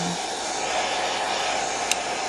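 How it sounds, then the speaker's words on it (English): A hair dryer blows steadily and close, drying a page in a creative journal, with a continuous airy whoosh under a constant motor hum. "You can let it air dry, or you can blow dry."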